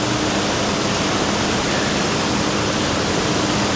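The Chattahoochee River rushes beneath the main bridge in Helen, Georgia, a steady, dense broadband water roar with no pauses, close and fairly loud, with no voices.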